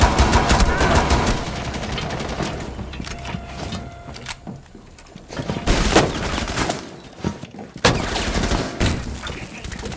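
Rapid gunfire bursts crackle through a Rainbow Six Siege match: loud automatic volleys, then a lull, then more sharp shots and bursts.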